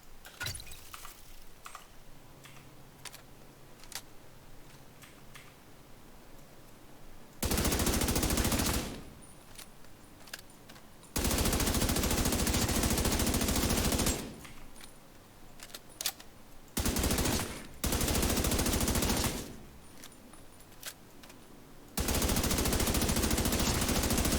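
Nemesis exotic rifle from The Division 2 video game fires in several loud, sustained bursts with quiet gaps between them, while softer handling clicks fill the stretches before and between volleys.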